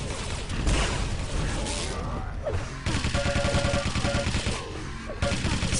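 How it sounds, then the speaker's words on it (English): Machine gun fire in an arena shooter video game, rapid sustained bursts with brief pauses, loud and close, mixed with mechanical weapon sounds and occasional impacts. "utilizing that machine gun really effectively on the bounce pad there"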